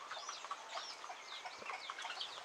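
Chickens of a backyard flock with young chicks cluck and chirp continuously in a soft, busy chorus at moderate distance, with no talking.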